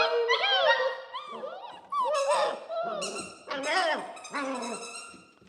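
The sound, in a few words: squeaky dog toy squeaker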